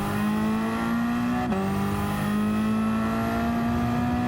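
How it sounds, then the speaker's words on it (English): A Ford Focus touring race car screams down a straight, its engine holding a loud, steady, high-pitched drone with a brief dip at a gear change before climbing again. "Car absolutely screaming down this straight"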